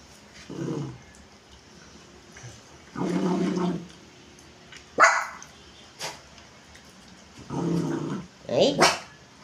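A dog barks and growls in short bursts with pauses between, fairly close, and a person talks in between the barks.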